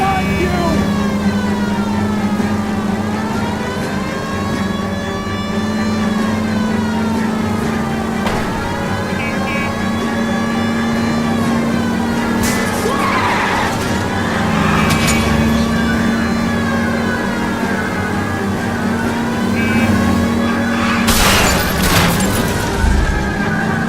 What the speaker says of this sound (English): Reports of an illegal street race.